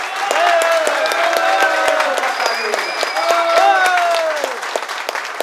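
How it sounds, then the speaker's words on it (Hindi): A hotel event audience gives steady, dense applause for the staff. The loud clapping fills the whole stretch while a voice talks over it. "उनके लिए सब लोग तालियां हो जाए"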